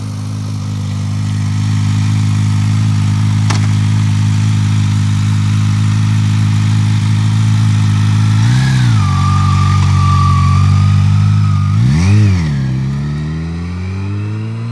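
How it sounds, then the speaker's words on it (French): A Kawasaki H2 motorcycle holds a loud, steady engine note, then revs sharply twice, its pitch sweeping up and back down as it passes close by. "2-3 passages de la Kawasaki H2 S6E+"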